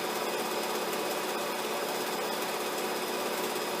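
Sewing machine stitching fabric in a dark room, running down a long edge: a rapid, continuous mechanical whirr and patter, close and steady for the whole stretch, with no talk.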